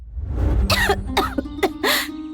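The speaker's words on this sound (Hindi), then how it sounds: "मोड़ पर पहुंचते ही वो रुकती है और खांसने लगती है।" A woman coughs several times in short, harsh bursts, close and loud, with raspy breaths between them.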